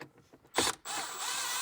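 A ratchet turns a screw in the dashboard of an E39 BMW 540i during a radio install, giving a short burst of close mechanical clicking followed by a steady sustained mechanical whir.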